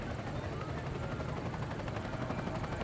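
A helicopter hovers over a cycling road race stage, its steady rotor thump and engine drone forming a constant loud wash throughout with no break.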